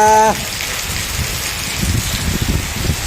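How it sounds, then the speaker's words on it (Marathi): Steady monsoon rain pours down in a dense, even hiss, with heavier drops pattering nearby; a brief tonal blip sounds at the very start. "आजचा पहिला पाऊस मान्सून"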